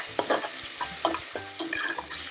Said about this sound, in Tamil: இந்த வெங்காயம் வதங்கட்டும் நல்லா.